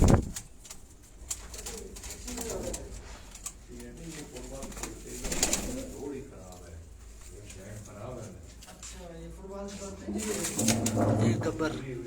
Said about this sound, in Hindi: ये हमारे पास चंद मखसूस कबूतर हैं